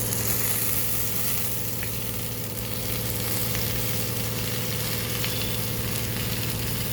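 Amaranth leaves hit a pan of hot, golden tempering for dal, giving a steady, continuous sizzle and frying crackle that stays even throughout, close and moderately loud with no talking.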